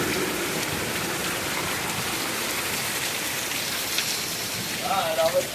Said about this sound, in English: the 2-inch hail incoming